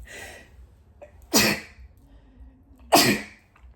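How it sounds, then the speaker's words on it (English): Two sharp sneezes, each preceded by a short inhale, loud and close, with quiet pauses between. "I have to sneeze."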